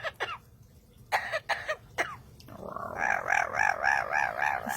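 A talking bird imitates coughing with a few short, harsh hacking bursts spaced apart, then breaks into a long wavering, warbling call. The sounds are close and moderately loud over faint background noise.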